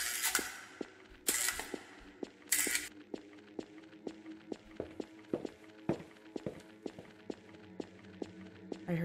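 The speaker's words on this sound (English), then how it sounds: "I heard footsteps." Footsteps thud through the horror game 3 AM at the Krusty Krab, with a steady series of soft, close steps and a few sharper knocks in between, heard alone without talk.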